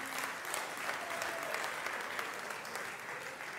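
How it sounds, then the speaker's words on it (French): Applause from the audience at a talent show semi-final, a moderate, steady patter of many hands clapping, slightly distant and without voices. "Est-ce qu'on peut applaudir?"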